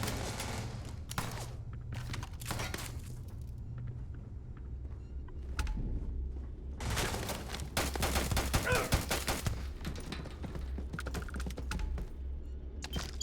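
Sustained gunfire from a firefight in Starfield, with repeated bursts and volleys of shots over a steady low rumble, growing denser and louder in the second half.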